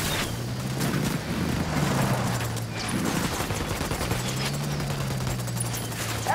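Gunfire in Ghost Recon, with rapid shots crackling in dense bursts against a steady low engine drone, moderately loud and continuous, with no talking.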